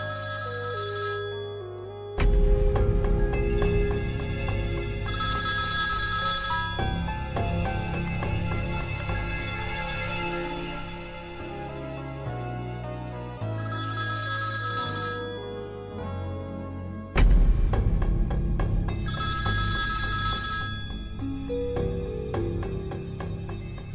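A telephone ringing with an incoming call from a father, heard as a musical ringtone playing loudly and continuously with repeating phrases and no talk.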